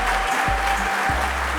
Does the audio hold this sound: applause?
yes